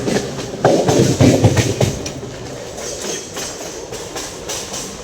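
A rumbling commuter train to Belapur rolls along the rails, louder in the first couple of seconds then settling into a steady clatter.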